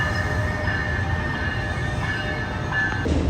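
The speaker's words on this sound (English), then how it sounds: "that train was packed." A New Jersey commuter train rolls along the rails with a steady, loud rumble and a faint high wheel whine, close by and continuous, with no voices.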